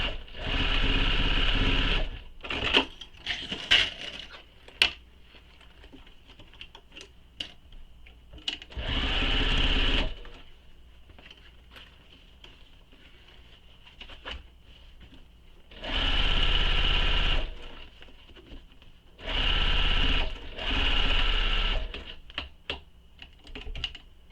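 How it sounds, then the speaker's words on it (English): A sewing machine sews the side seams of a bag pocket, running in several separate steady bursts of stitching with quieter pauses and small handling clicks between them, close and clear with no talk. "So now we're going to sew those sides with the seam allowance given in the pattern."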